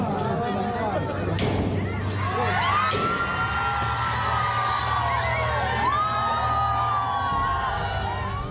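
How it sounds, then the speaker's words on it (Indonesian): Parents of pupils cheer and shout in triumph as the padlocked gate of an elementary school in Depok, Indonesia is forced open; a loud, continuous crowd roar with whoops and children's shouts swells around the three-second mark and stays dense. "Pembukaan paksa gembok pagar SDN Utan Jaya ini langsung disambut teriakan kemenangan oleh orang tua murid."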